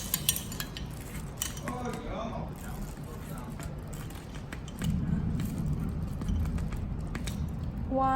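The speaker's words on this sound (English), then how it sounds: "And you mix it like this." A utensil scrapes and clinks against a bowl as banana cake batter is stirred, a steady busy texture of light metallic taps and scraping with faint background noise.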